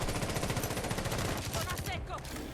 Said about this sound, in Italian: ha proprio sparato a caso